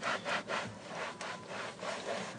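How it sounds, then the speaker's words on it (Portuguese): A cloth scrubs cleaning product into a caramel-colored car seat in quick back-and-forth strokes, giving a close, rhythmic rasping rub with no voices. "E aí depois é só esfregar com o pano."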